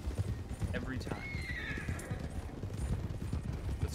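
A horse whinnies with a rising, wavering call while hooves clip-clop steadily underneath, alongside game sound from Red Dead Online and low background noise.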